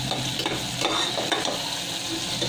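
Masala spices frying in hot oil for masoor dal, cooked UP-style, with a steady close sizzle and repeated scraping strokes of a spoon stirring through the pan.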